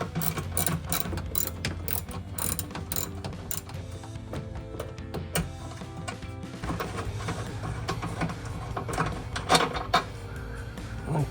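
A hand ratchet removes the 13mm bolt on the far-end bracket of a 2021-2023 Ford F-150 during a BedStep install, with rapid repeated clicking bursts through the clip, close and fairly loud.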